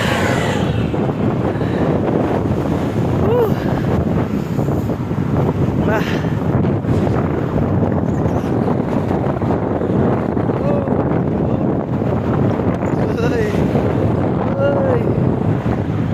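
Strong, constant wind buffeting the microphone during a bike ride, a loud low roar throughout with faint voices and water sounds mixed underneath.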